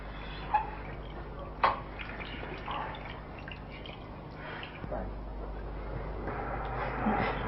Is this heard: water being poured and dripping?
yes